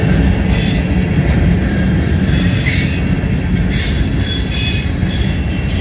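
An eastbound CSX freight train passes close and loud with a steady rumble of wheels, while distributed power locomotives work hard and wheels squeal intermittently throughout.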